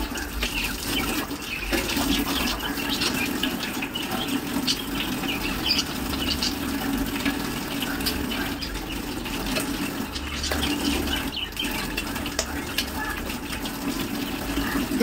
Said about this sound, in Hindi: मुँह धो लेती हूँ मैं।